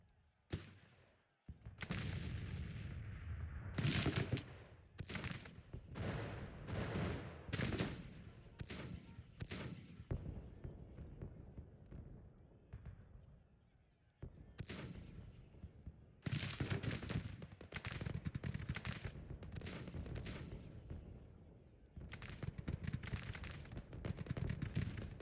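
Artillery and musket gunfire in Grand Tactician: The Civil War, a American Civil War strategy game: repeated rolling volleys and booming salvos in clustered bursts, separated by short quiet gaps, fairly distant and soft.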